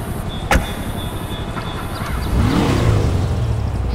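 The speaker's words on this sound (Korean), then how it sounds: "엔진 소리는 그냥 그래요." Bravado Banshee-like supercar engine idling with a steady hum, then a short rev that rises and falls, moderately loud and without talk.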